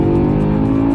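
A BMW M5 with over 500 horsepower pulls at full throttle in second gear, its engine a loud, steady, close drone.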